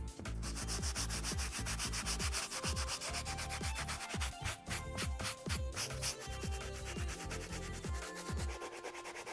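An Air Jordan 1 UNC Reimagined sneaker insole is scrubbed clean with steady, rapid back-and-forth rubbing strokes, loud and close throughout, with no talking.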